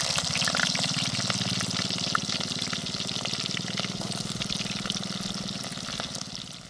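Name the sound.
chopped onions frying in oil with mustard seeds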